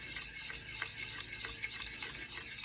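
A fork stirs stovetop mashed potatoes in a pot, a soft, faint, continuous scraping and squelching with small clicks, close by and without talking.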